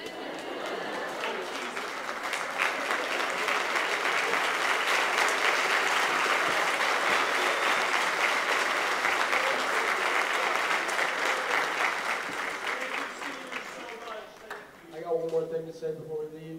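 An audience applauds at a high school choir finale, loud sustained clapping from a large crowd that holds for about fourteen seconds before fading, followed by a voice speaking.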